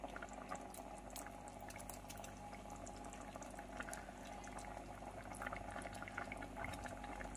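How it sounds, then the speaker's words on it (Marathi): Curry gravy for paneer masala boiling in a pan, a steady close bubbling and popping that runs the whole time with no voices over it. "तर इथे छानपैकी अशी आपली उकळी आलेली आहे"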